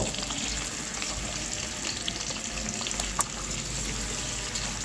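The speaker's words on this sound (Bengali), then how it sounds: "পেঁয়াজটাকে একটু নেড়ে চেড়ে ভেজে নেব" Chopped onion fries in hot oil with a dense, continuous sizzle at steady volume, broken by a single sharper clink of stirring, and no one speaking.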